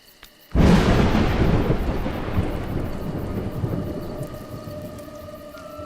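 A loud thunder crash erupts suddenly after a brief quiet and rolls on, slowly fading over several seconds, in the video game A Juggler's Tale.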